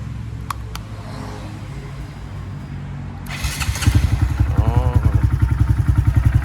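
After a few seconds of quiet idle noise, a Honda Monkey 125 motorcycle engine with an aftermarket exhaust cranks and catches, settling into a loud, rapid, pulsing idle close by.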